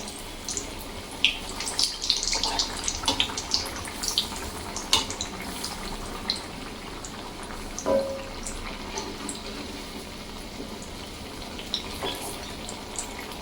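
Batata vada deep-fry in hot oil, giving a steady, close sizzle dotted with small crackles and pops throughout.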